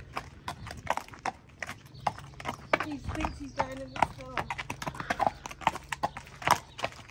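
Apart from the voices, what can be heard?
horses' hooves clip-clopping into the stables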